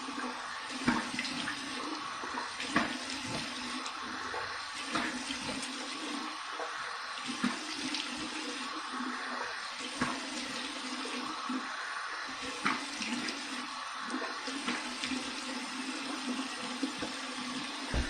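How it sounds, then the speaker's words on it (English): Cold tap water splashing in a bathroom sink during a rinse after a wet shave, a steady running-water wash with intermittent splashes and handling knocks throughout, moderately close and without talk. "Here's my cold water rinse."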